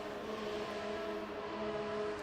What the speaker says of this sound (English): a listen to the cars on track